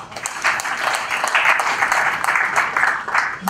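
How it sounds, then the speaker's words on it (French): An audience at a national prayer breakfast applauds a guest, with a dense, even wash of many hands clapping, loud and sustained for a few seconds with no voices on top. "Nous allons l'applaudir aussi."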